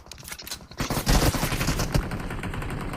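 Gunfire in the mobile battle royale game BGMI, a dense, loud burst of rapid shots that starts after a quieter opening second and rattles on steadily to the end.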